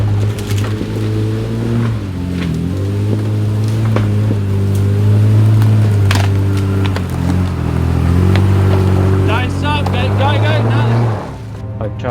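A Nissan Patrol 4WD revs hard on a slippery jungle hill climb, its engine note rising and falling in a loud, sustained drone with a voice speaking briefly near the end.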